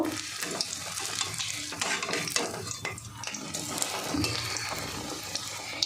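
Egg batter sizzles and fries in a pan while a utensil scrapes and taps against the metal now and then.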